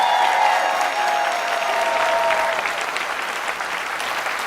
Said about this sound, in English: Let's give SEIU a round of applause